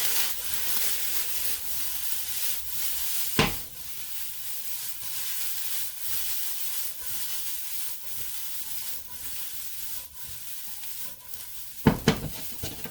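Egg fried rice with sesame oil stirred in a hot pan, a steady sizzle under repeated scraping stir strokes, with two sharper utensil clanks against the pan.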